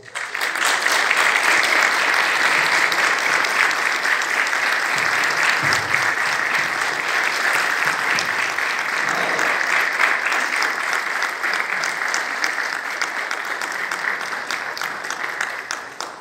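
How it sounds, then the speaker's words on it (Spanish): A seated audience at a state congress ceremony honoring teachers gives sustained, dense applause that stays steady throughout before slowly thinning toward the end. "Brindémosles un respetuoso aplauso."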